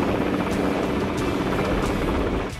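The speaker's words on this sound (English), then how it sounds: "the helicopters describe huge ascending spirals over Ilfracombe" Helicopters spiral upward over Ilfracombe, a steady loud rotor drone with faint rhythmic blade chop, continuous and close throughout.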